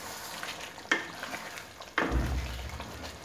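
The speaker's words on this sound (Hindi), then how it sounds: "इसमें काजू है इसलिए इसको बार बार मैं हिला रही हूँ ताकि ये गले तले को लगे नहीं।" Green chicken curry with cashews stirred in a pan, a soft bubbling sizzle with two clear scraping strokes of a spoon against the pan, close by and fairly quiet, with no speech.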